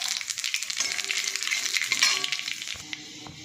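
Nigella seeds sizzle in hot oil left over from frying fish, a bright crackling hiss with quick pops that fades toward the end.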